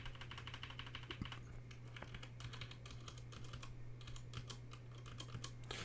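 Continuous typing on a Razer BlackWidow mechanical keyboard, a rapid, uneven patter of fairly quiet key clicks and clacks at close range over a low steady hum, with no talking.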